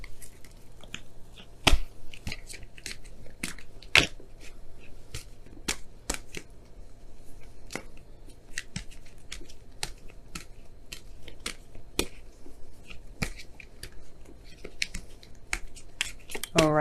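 Oracle cards being shuffled for a tarot reading, a steady run of sharp riffling snaps and soft card slides, close and alone without talk.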